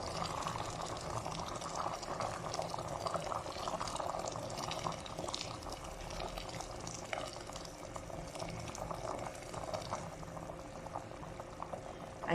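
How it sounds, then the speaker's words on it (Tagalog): Water being poured into a pot of simmering oxtail kinamatisan, a steady close bubbling and splashing that runs evenly throughout with no talk. "Lagyan natin siya ng water."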